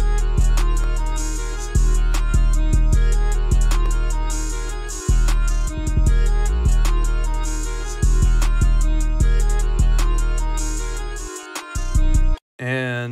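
An FL Studio trap beat built on a booming 808 bass pattern with a slide note thumps loudly and steadily under crisp hi-hats and drums, with a brief dropout near the end.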